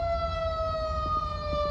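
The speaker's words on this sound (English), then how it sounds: "Well, will you toggle your siren, please?" A police siren in a roleplay video game wails steadily and loud throughout, a sustained tone with slowly drifting pitch over low engine rumble.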